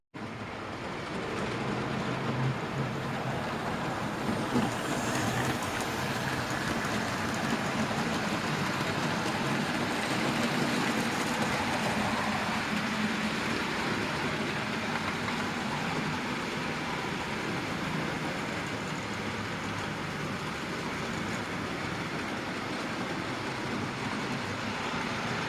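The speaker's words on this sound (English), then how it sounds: "Something squeaking on this little train" A small model railway train runs continuously along its track in a loft layout, a steady rumbling rolling noise with faint squeaking, fairly close and even in level throughout.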